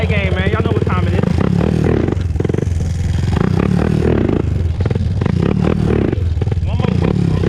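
A 2001 Honda TRX400EX ATV with a ticking noise when cornering, ridden on a wheelie; a loud, continuous engine drone sits under excited shouting voices, with clattering and scraping mixed in.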